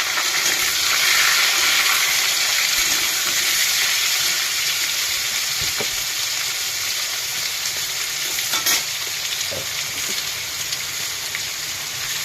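Fully ripe pumpkin pieces fry in hot oil with a dense, steady sizzle and crackle, close and continuous, with a few sharper pops along the way.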